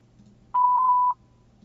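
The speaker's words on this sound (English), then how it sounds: "Please leave a message after the beep." A voicemail beep following a recorded greeting, a single steady electronic tone lasting about half a second, clear and isolated over a faint low hum.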